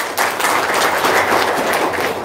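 Audience at an Indonesian talk-show-style event breaking into loud, steady applause, a dense burst of clapping close up lasting a couple of seconds.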